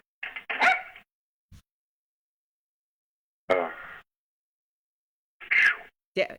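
A small dog barks at people arriving home, with a few sharp, high yips scattered among long silences, nearby and moderately loud.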